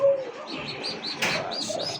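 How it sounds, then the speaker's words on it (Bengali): Several pigeons give close, soft chirps and short cooing calls in a quick repeated series, with a brief flutter of wings partway through and no one speaking. "এই যে চিচি চিচি করতেইছে দেখেন।"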